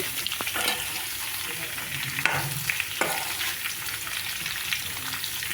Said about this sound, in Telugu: తాలింపు వేసిన తర్వాత బాగా కలబెట్టండి.